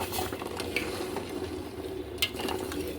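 Laung lata filling fries in a pan with a steady close sizzle, while a utensil stirs it in occasional scraping and clinking strokes; no one speaks.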